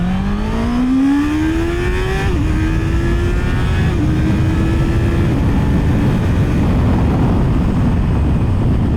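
A 2024 Honda CBR650R motorcycle engine holds a steady high rev around 6,000 RPM, a loud continuous whine with small pitch dips and recoveries, heard close and alone.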